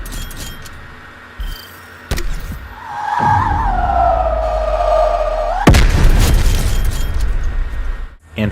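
Launcher round fired and exploding in Black Ops Cold War: a sharp burst, then a rising whistling whoosh, then a loud broad blast with a rumbling tail, against game ambience.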